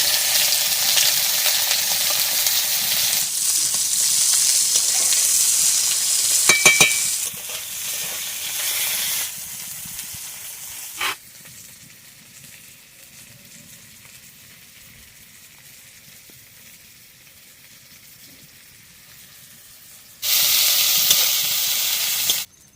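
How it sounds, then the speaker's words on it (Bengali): Chicken frying in oil with green chilies, cumin and onion for a village-style chicken and cauliflower curry, loud sizzling at first, then fading to near quiet before a burst of sizzle returns at the end. "এবার তেল দিয়ে দেবো, মাংস দেবো। দুটো লঙ্কা দিয়ে দিচ্ছি, অল্প একটু জিরে দিচ্ছি, পেঁয়াজ দিয়ে দিচ্ছি"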